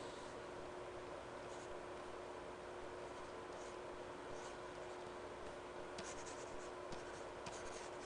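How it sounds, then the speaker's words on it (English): Pen strokes scratching over tissue paper while sketching a cartoon character in detail, a steady soft scratchy texture with brief bursts of quicker strokes, close and alone. "so I start drawing more in detail this time."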